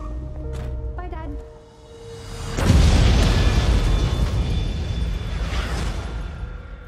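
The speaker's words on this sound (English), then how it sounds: "An explosion rocked the city today." A sudden loud boom bursts out and rolls into a long, rumbling roar that slowly fades, following a quieter stretch of muffled sound.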